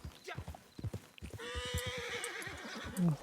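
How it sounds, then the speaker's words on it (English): Horse in a video game clip-clopping along at a walk, hooves steady and close, with a whinny near the end and a voice talking over the start. "now walk with the horse for a little bit. Maybe trot."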